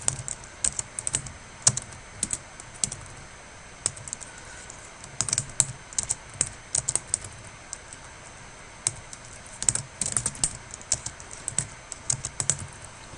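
Someone types data into spreadsheet cells on a computer keyboard, the quick, light, irregular key clicks coming in bursts with short pauses, close and fairly quiet, with no talking.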